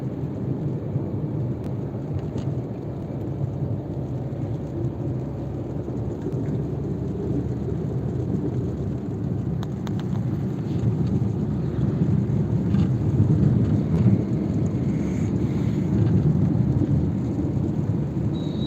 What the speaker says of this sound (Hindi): इधर बारिश और तेज हो रहा है, उधर कम हो गया था।